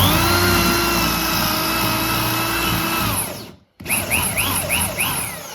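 A power drill whines steadily at close range, then stops briefly and restarts with rising and falling revs as it bites into a wooden stair rail.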